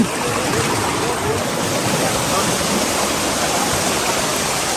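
Water rushes down a wooden channel beside the Garatapar waterfall in Azad Kashmir, near a water mill: a loud, constant roar of churning, splashing flow.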